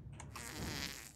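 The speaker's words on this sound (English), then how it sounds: "I farted." A short, low, raspy fart sounds close up and lasts about a second, with no talk over it.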